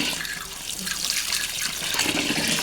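Coriander seeds being washed in water, with steady running and swishing from a tap or sink that continues for a few seconds. No one speaks.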